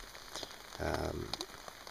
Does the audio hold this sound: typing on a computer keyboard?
no